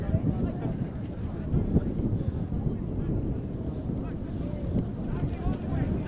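Gusty wind buffets the microphone at an outdoor U17 boys soccer final on a cool Saturday afternoon, a constant low roar with a commentator talking over it.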